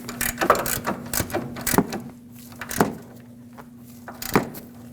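A wrench ratchets on a front upper control arm bolt of a Ford Ranger, giving a steady series of close metallic clicks and clunks over a low background hum.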